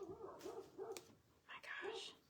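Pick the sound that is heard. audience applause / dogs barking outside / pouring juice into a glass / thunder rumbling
dogs barking outside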